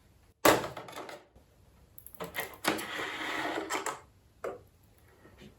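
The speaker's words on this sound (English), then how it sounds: "Next, we push the bed right to the front and we remove this cover." Plastic cover being pulled off the bed of a Bambu Lab A1 3D printer: a sharp snap followed by several bursts of scraping and clattering, close and fairly quiet, with no talking.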